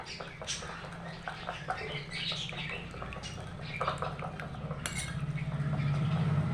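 Cookie dough being beaten and mixed in a bowl for quick fried biscuits, a busy run of clinking, scraping and sticky patter from a utensil against the bowl, steady and close, growing a little louder near the end.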